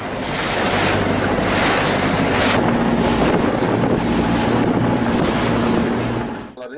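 Open sea off the Turkish coast with a procession of gulets, sailboats and fishing boats: loud steady wash of waves and wind buffeting the microphone, continuous and unbroken, no voices.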